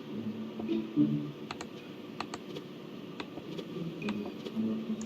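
Quiet clicking of keys on a computer keyboard, irregular bursts of typing strokes close by over a low background hum, no voices.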